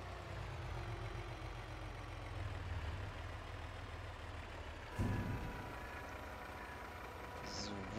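A vehicle driving up in the farm video game Farming Simulator 22: a steady low truck-like engine drone with a sudden hissy air-brake burst midway, then quieter idling, beneath occasional talk.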